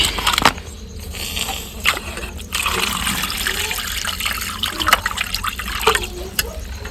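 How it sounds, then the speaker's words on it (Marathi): Running water splashes and pours steadily over raw chicken being rinsed, with occasional knocks and sloshes close by; no one speaks. "चिकनला आपण आता धुवून घेऊ"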